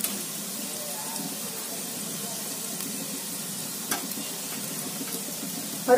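Spices being lightly roasted and stirred in a pan give a steady, soft sizzle throughout, with faint scraping from the stirring and a small clink near the end.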